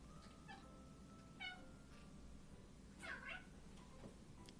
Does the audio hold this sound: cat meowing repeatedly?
yes